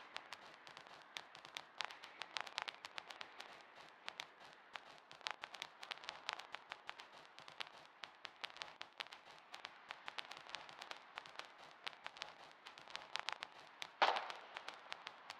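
Faint, distant gunfire skirmish in the war video game Foxhole, with irregular crackling pops of shots scattered steadily over a low background hiss, one slightly louder crack near the end.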